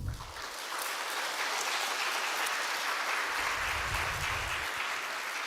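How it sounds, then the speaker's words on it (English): An audience in a congress auditorium gives a round of applause, a steady, even wash of clapping that holds throughout with no voices on top. "I think we should give them a round of applause."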